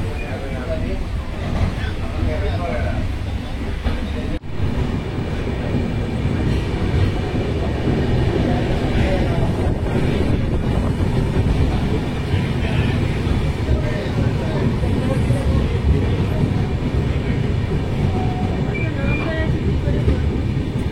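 A passenger train on a line toward Puri rumbles steadily for about twenty seconds, the continuous low roar of the carriages heard from on board, with voices talking over it now and then.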